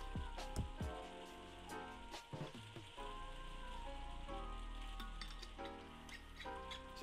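Steady rain patters and hisses continuously, close and dense, with occasional louder drips and taps standing out from the wash.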